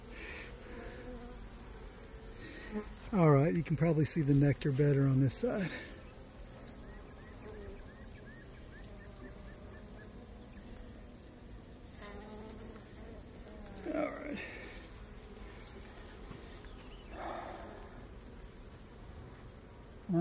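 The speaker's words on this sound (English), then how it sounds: "Sheesh, there's so many bees." A mass of honey bees drones steadily on the comb of a cutout hive, a close, continuous buzz with a louder burst early on, while a person talks over it.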